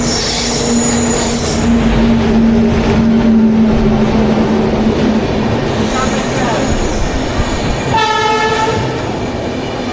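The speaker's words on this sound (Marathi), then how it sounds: "गाडी मित्रांनो आलेली आहे आपली आता." Jaipur Superfast Express train arriving at a station: loud continuous rumble of rolling railcars with screeching wheel squeal and a sustained horn-like tone partway through, brief chatter faintly underneath.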